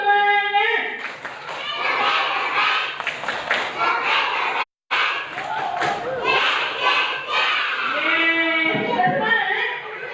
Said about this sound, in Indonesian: Yuk kita tepuk semangat dulu ya. Tepuk semangat.